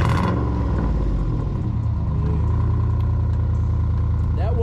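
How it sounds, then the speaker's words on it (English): A fully built, tuned Chrysler 300 SRT8 with a full Magnaflow exhaust starts with a sharp rev burst, then settles into a loud, deep, rumbling idle close by, with a brief higher squeal near the end. "let's hear the SRT8 300 fully built and tuned."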